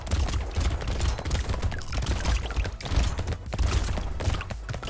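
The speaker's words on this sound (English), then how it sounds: "maybe it's the shotgun just like insta-blasting them" A double-barrel shotgun fires at waves of enemies in the video game Brotato, giving dense, rapid bursts of game gunfire with crunchy impacts that run continuously and loudly, with no talk over them.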